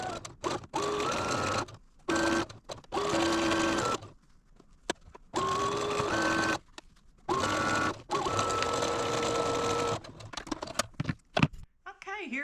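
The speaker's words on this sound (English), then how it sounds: "So let's go sew our last seam." A sewing machine stitches the last seam of a quilt block in short, close bursts of whirring motor and needle clatter, separated by brief pauses.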